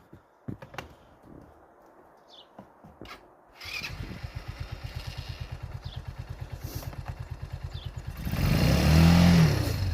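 A Yuki 250 ATV in the snow coughs through a few starting attempts, then catches into a steady, rapid chugging idle and revs louder near the end; close and loud, with no talking.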